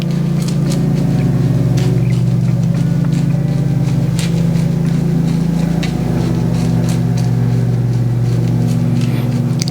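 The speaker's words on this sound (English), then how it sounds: "one of my neighbors are getting their lawn cut." A neighbor's lawn mower cutting grass, heard as a loud, constant engine drone with a steady low hum throughout, nearby and unbroken, with faint ticking and rattling on top.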